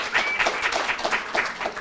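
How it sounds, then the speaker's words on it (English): An audience at a university marketing symposium claps for a team: a short burst of mixed clapping with a few distinct sharp hand claps, moderately loud, with no talk over it. "Let's clap for them."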